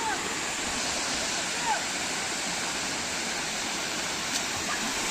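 Water pours and rushes steadily into a stream pool (kondi) swollen after several days of rain, a dense, continuous wash of noise filling the whole stretch at moderate loudness.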